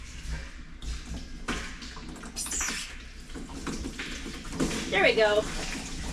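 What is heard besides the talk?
water trickling through hose into water tank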